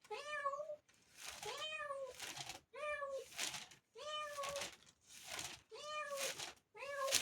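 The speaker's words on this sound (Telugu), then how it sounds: "పిల్లి మౌనంగా ఉండు." A cat meows loudly and close by, about six drawn-out calls in steady succession with brief pauses between, during a Telugu Bible sermon recorded indoors.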